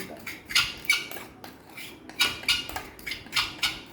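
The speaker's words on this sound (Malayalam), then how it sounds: "നല്ലവണ്ണം പതച്ചെടുക്കേണ്ടതാണ്" Eggs with powdered sugar being beaten by hand in a bowl for cheesecake, rapid rhythmic clinking bursts of a whisk against the bowl, close and alone.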